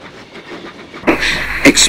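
Steam train pulling out of a platform in the Trainz video game, with a soft chuffing rhythm that gives way to louder hissing and rhythmic exhaust bursts, close and prominent.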